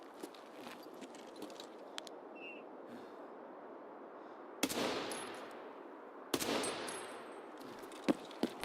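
RPK light machine gun fire in Escape From Tarkov, heard from a distance: sparse faint cracks over a quiet ambient bed, then two loud bursts of rattling automatic fire with echoing tails, followed by a few more sharp shots.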